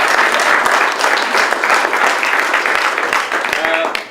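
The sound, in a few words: round of applause in village hall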